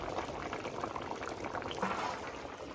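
Water in a pot of eel fish curry with potatoes bubbles at a steady rolling boil, a continuous, close, fairly quiet churning with no voices.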